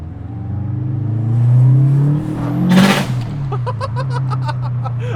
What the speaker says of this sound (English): I've never driven a car with a screamer pipe.